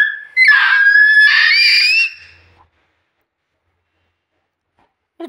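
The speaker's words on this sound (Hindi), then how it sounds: "इतना जोर से नहीं चिल्लाते" A baby lets out a loud, high-pitched scream, close by, lasting over a second and a half before it stops, then silence.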